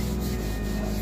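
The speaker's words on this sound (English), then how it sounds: "I wiped out all the excess oil from this pan" Paper towel rubbing excess oil out of a Smithey cast iron skillet, a steady close scraping and rubbing texture heard alone for a brief moment.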